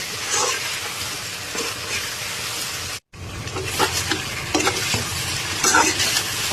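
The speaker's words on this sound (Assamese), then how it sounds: "গৰম মছলা দি পেলাই আৰু অলপমান ভাজি লওঁ।" Local chicken with garam masala, green chilli and cumin fries in a pan in an Assamese kitchen, giving a continuous sizzle with scraping stir strokes and a brief silent gap partway through.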